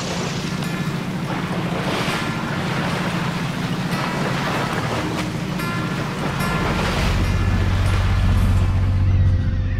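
A sailboat motor sailing on open sea between Laurieton and Coffs Harbour, with steady loud wash of waves and wind against the hull and a low engine drone that grows heavier near the end.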